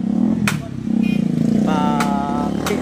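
A motorcycle with a loud, unmuffled exhaust runs close by, its engine note rising and falling steadily over about three seconds, with sharp clattering bursts cutting in between.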